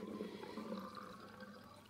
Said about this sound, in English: I just kind of pull the plug and let the water drain